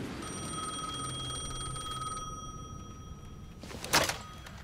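A telephone rings in the video game Alan Wake 2 as a sustained, even electronic tone that stops partway through. A short, louder clatter follows near the end, and no one speaks.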